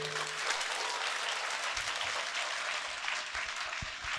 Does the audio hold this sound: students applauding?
yes